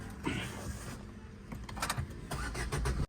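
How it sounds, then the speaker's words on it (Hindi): A Maruti Brezza car engine starts by push button, cranking and catching into a steady idle with the air conditioning running, recorded up close with a few clicks. "एक बार स्टार्ट करके देखते हैं, इसका इंजन नॉइस चेक करते हैं एक बार"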